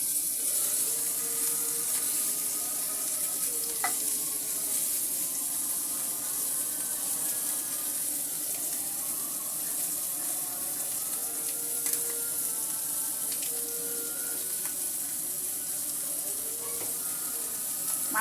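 English fish (ingredient of a ridge gourd curry) frying in a pan, with a steady, continuous sizzle and crackle from close by, broken now and then by small clinks of a utensil; no one speaks.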